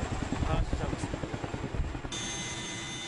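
A military aircraft engine drones loudly about 600 m overhead during a parachute drop, with a rhythmic pulsing throb, steady and close, under a speaking voice.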